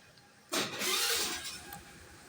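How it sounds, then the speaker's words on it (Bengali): A scooter with about 2100 km of running catches after a silent start and settles into a steady idle, a mid-pitched engine hum that holds close and even, then eases slightly lower. "আমরা বাইকের সাউন্ড দেখানোর চেষ্টা করব"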